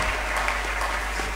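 Church congregation applauding for the king during a French sermon, a dense wash of clapping hands from many people, loud and sustained through the short moment.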